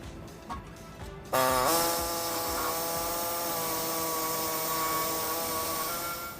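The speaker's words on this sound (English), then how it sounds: "What I'll be using is a air saw to notch out the sides on the hole there" Pneumatic air saw cutting notches into the steel frame of a 2011 Ram 1500 pickup, starting abruptly after a quiet moment and then running as a loud, sustained high whine close by.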